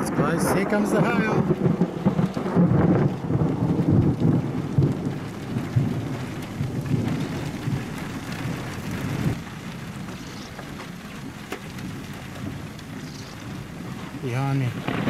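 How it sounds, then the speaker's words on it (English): Hail and heavy rain fall during a thunderstorm on the Darling Downs, a loud, dense roar with rumbling thunder that eases a little partway through, while a person speaks over it. "Here comes the hail."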